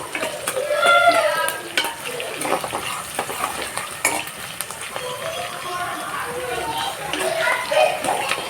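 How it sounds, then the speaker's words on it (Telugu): Green chillies lightly frying in a pan for a mutton curry, a steady sizzle with stirring and utensil scrapes, heard beneath someone talking throughout. "గ్రీన్ చిల్లీస్ అయితే నేను వేసేస్తాను. ఇది కూడా మనం ఫ్రై చేసేసుకుందాం."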